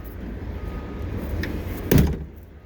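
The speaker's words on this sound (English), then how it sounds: "And that door doesn't want to shut now either." Door of a 1992-97 Ford F250-450 pickup that has sat unused for a while, swung against the frame and failing to shut, a single dull thump with a brief rattle near the end amid quiet room noise.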